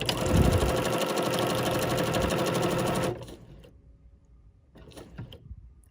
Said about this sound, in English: lower my presser foot and start.